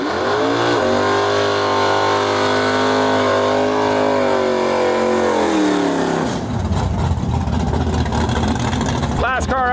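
A drag race car roars loudly down the track at a heads-up drag event in Western Canada. Its engine pitch climbs steadily under full throttle, then breaks into a rough, ragged blare as the car pulls away, with an announcer's voice running over it.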